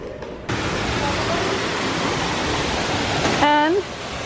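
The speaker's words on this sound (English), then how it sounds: "there's where the water came out from the bubbling creek" Steady rushing water from a bubbling creek at Geyser Point in Disney World, a loud, close, even hiss throughout, with a brief voice near the end.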